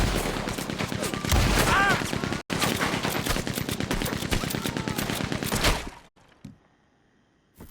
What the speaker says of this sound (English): He's going for the Gatling! Look out! He's firing! Hell, that gun can shoot!